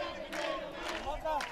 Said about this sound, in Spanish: Las banderas, la gente que aplaude de la 16